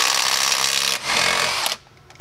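A Milwaukee M12 FUEL impact driver breaks loose a 19 mm lug nut on a vehicle wheel, hammering loudly and continuously for nearly two seconds before cutting off abruptly, leaving a brief quiet tail.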